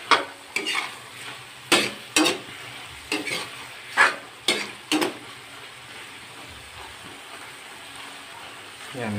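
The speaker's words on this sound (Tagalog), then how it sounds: "Haluin lang para ma-spread yung soy sauce." Food frying in a pan as soy sauce is stirred in, several sharp scraping stirs over a steady sizzle, close by, then a quieter simmer.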